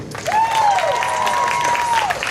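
An audience in Topeka breaks into brief applause, with clapping and a rising, sustained whistle riding over the crowd noise.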